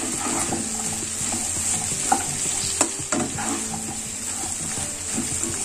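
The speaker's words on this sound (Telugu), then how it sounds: "సో ఒకసారి ఇప్పుడు బాగా మిక్స్ చేసుకుందాం." Okra (bhindi) being stirred as it fries in a little oil in a pan, a constant sizzle under scattered scrapes and light clinks of the spoon, with no talking.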